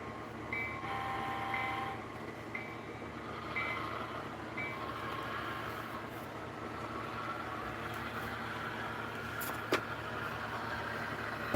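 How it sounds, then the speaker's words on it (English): A model train circles an 8 by 8 foot layout running around the walls of a room, giving a steady low rolling rumble with faint squeals and clicks throughout, one sharp click near the end. "I was running a train around."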